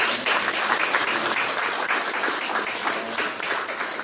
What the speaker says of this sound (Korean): 이럴 때 박수 한번 쳐주십니다